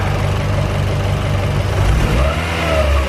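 A Honda B16 engine swapped into a car runs steadily at close range, giving a smooth low hum with a slight rise in revs near the end; no talking.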